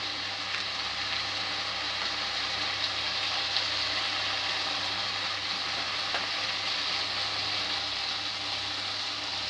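Matar ghugni, a spiced dried-pea curry, sizzling steadily in a pan as it is mixed, a continuous close frying hiss with faint scraping and no talk.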